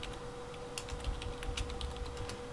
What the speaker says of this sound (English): All we have to do is just start typing in this little search field down here.